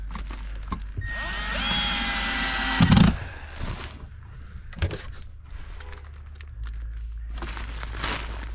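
A cordless power drill drives two screws to fasten an electrical box in place during an A/C wire and breaker upgrade, whirring in a loud, rising burst for about two seconds, then stopping with a brief clunk, followed by quieter handling noises.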